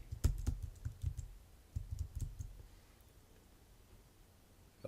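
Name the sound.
typing on a computer keyboard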